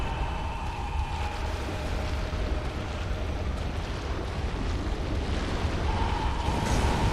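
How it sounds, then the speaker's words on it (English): Lava spewing and explosions in a chalice dungeon video game: a dense, loud, unbroken roar that stays steady throughout, with no voices. "It's also impossible to hear because of all of the lava spewing and explosions."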